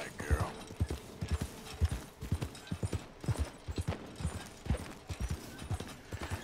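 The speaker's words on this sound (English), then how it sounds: "Get on the horse." Horse hooves clip-clop in steady, rhythmic pairs in Red Dead Redemption 2, close and distinct at a walking pace throughout.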